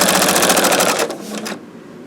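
A Husqvarna Viking Designer Diamond sewing machine stitches in a rapid, loud mechanical rattle that slows and fades as it stops after about a second and a half.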